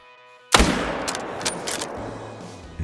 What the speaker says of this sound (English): Gonna shoot that bear as well.